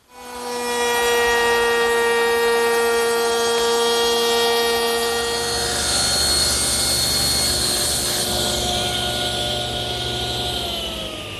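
A table saw cuts miters on the wooden base pieces of a jewelry box, its steady whine running loud and close for about five seconds before shifting into a lower, rougher tone as the blade bites the wood.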